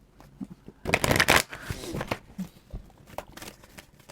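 A deck of tarot cards being shuffled for a reading, with close riffling bursts and softer card handling and taps in between, plus brief faint voice sounds.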